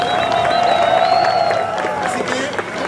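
A crowd at an outdoor concert in Plaza Salvador del Mundo, El Salvador, applauds and cheers loudly and continuously, with voices mixed into the dense clapping.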